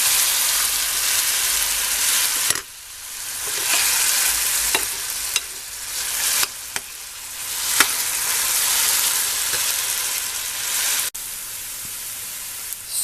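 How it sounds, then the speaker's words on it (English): Chopped vegetables for veggie cutlets, including parsnips and onions from leftover celery juice pulp, are lightly fried and stirred in a pan. A steady close sizzle runs throughout, broken by a few stirring scrapes. "I'm lightly frying them to soften them and to make them more suitable for mixing into my cutlets"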